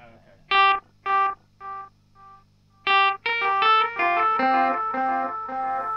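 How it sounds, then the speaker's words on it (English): Death By Audio Ghost Delay pedal echoing guitar notes: a few isolated plucked tones repeat and fade, then a dense run of notes blurs into a sustained wash of overlapping delay repeats, fairly loud and without talk. "It's a very nice sounding echo."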